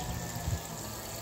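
Water runs from a pipe tap during washing, a faint steady trickling flow with low gurgles, heard alone.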